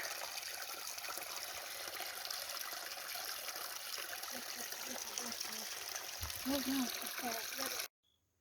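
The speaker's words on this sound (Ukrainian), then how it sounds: "Тече вода, тече бистро до збруча" Flowing water of the Zbruch river in the Podillia Tovtry area near Sataniv, heard as a soft, continuous trickling rush at some distance, fairly faint and unbroken until it cuts off at the end.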